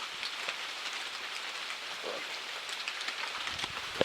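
Rain falls steadily at a deer camp in Alabama, a soft, even patter on surfaces with scattered louder drops, no voices.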